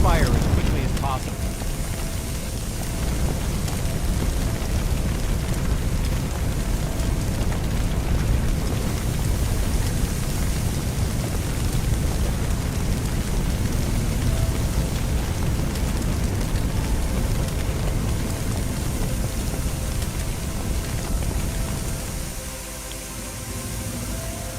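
A firefighting simulator game's fire hose sprays with a loud, steady, broadband hiss that rushes on for about twenty seconds before easing off near the end, with voice instructions heard over the spray.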